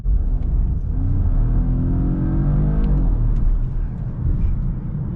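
A Volvo XC40 T5 plug-in hybrid's petrol engine hums steadily throughout at a constant, moderate level, with a faint rising whine in the middle and no talking.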